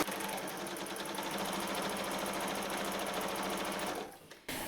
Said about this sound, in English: you can sew as fast as you think you can sew to get close to that edge